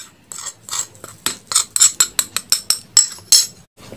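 Rapid rhythmic clinking of a utensil stirring and mixing ingredients for sweet-spicy peanut snacks in a bowl, about a dozen sharp close scrapes and taps in quick succession, with no voices.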